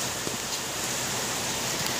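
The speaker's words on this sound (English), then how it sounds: "it is raining here." Steady, dense rain hisses evenly throughout, close and continuous, with a few faint drops standing out.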